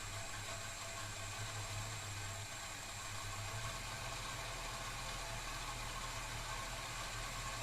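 A Holden HK Premier wagon engine idles low and steady, a constant mid-pitched hum with faint rhythmic vibration, heard alone without any voices.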